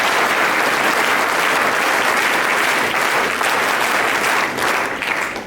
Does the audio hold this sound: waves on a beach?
no